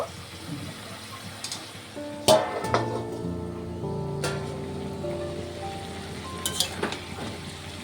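Bottle gourd cooks in a pan with a soft background sizzle, broken by sharp clinks and scraping stirs of a utensil against the pan, close and moderately loud, with no talk.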